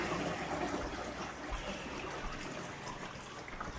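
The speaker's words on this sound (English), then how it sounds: "got the water back on into the filter" Steady broadband rush of water pouring and trickling into a Jebao CW-36 pond UV clarifier filter, continuous and fairly close, with no voices.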